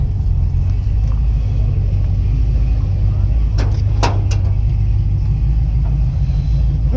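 A small block Chevy V8 paired with a 700R transmission idles in a car at an outdoor swap meet, a steady loud low rumble running the whole time with a few brief clicks in the middle.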